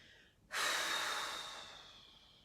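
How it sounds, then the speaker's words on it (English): A single long, breathy exhale blown out through the mouth during seated chair yoga, starting abruptly and loud, then slowly fading over about two seconds, close to the listener with no talk. "You might want to take a few nice blowing exhales."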